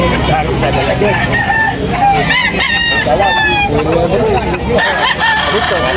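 Several roosters crow loudly and overlap at a busy chicken market in Tabunok, with clucking fowl and a steady babble of voices filling the space around them.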